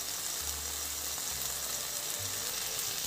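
Egg curry masala frying in oil in a pan, a steady bright sizzle that runs the whole time, close and even, with a few low soft stirring thumps underneath.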